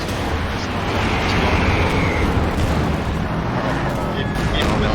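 Continuous dense rumble of tank battle in a video game, with an 88 gun firing at a Panzer IV, heavy booming and noise sustained throughout with no clear separate blasts.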